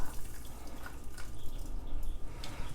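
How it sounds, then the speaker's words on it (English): Starchy water from boiled instant ramen noodles pours and splashes as it drains into a sink, a close, continuous watery rush with small drips throughout. "I'm just using this to take the noodles, drain the water"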